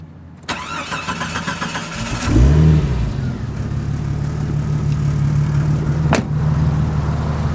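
A 1990 Jeep Cherokee engine starts with a sharp crank and catches, briefly revs up, then settles into a steady, loud, close idle with another sharp click near the end.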